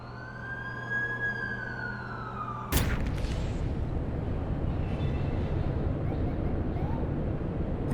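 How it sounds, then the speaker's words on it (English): In the video game The Amazing Spider-Man 2, an ambulance siren sweeps briefly, then a sharp clank cuts in and a loud, continuous engine-like rumble takes over and stays steady. "That's the ambulance I called."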